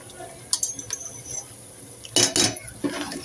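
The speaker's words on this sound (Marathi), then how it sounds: "मिक्स करून घेऊया।" Spoon scraping and stirring roasted semolina with ghee, cashews, almonds and cardamom powder in a pan, giving a few clinking scrapes, loudest in two bursts near the end, fairly close with no talk.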